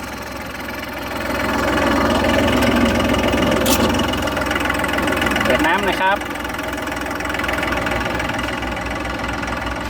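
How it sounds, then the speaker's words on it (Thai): A three-cylinder, 40-horsepower turbo diesel tractor engine idles steadily with a low, knocking rumble throughout while someone speaks briefly over it. "เครื่องยนต์นะครับ ตัวนี้เป็น 3สูบเทอร์โบ40 แรง ม้านะครับ"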